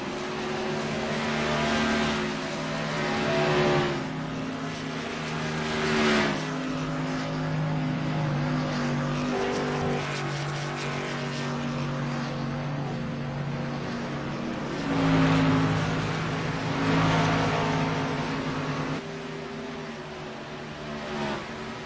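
Racing trucks roar around the track in a loud, sustained pack, their engine notes swelling and fading in repeated waves as the trucks surge past.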